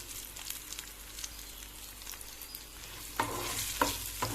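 Shallots, garlic and salt stirred in a pan over gentle heat, a quiet sizzle that turns into a few louder scrapes and knocks of a spoon toward the end.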